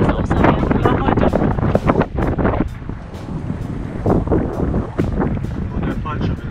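Wind buffets the microphone while sailing on the Baltic Sea, a loud, steady rushing roar with gusty surges, with people talking over it.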